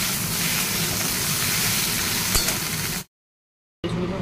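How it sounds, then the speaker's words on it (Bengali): Okra frying in a pan gives a steady, dense sizzle and hiss that fills the first three seconds, then cuts to silence for under a second before the sizzling resumes. "ঢ্যাঁড়সগুলো আগে একটু ভেজে নিই"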